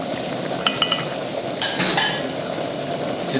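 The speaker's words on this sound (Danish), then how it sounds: "Så tager vi lige løgene og lægger her i." Salt-baked onions go into a warm pan of melted butter, giving a soft, steady sizzle with a few light clinks of a utensil against the pan in a kitchen.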